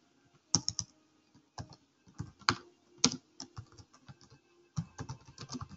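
Java code is typed on a computer keyboard in close, quiet bursts of clicking keystrokes, irregular in rhythm with a few sharper taps and brief pauses, with no talking.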